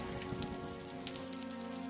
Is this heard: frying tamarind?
no